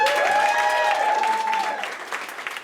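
Enthusiastic applause from a comedy club crowd mixed with cheers and a whoop, loud at first and then thinning out as the clapping fades.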